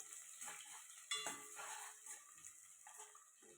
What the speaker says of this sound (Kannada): ಈರುಳ್ಳಿ ಹಾಕಿದ ನಂತರ ಸ್ವಲ್ಪ ಫ್ರೈ ಮಾಡ್ಕೊಳ್ಳೋಣ.